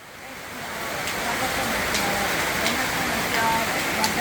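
Steady rain falling in Bali near a sacred temple, a continuous broadband hiss that stays even and fairly loud throughout, with faint scattered drips on top.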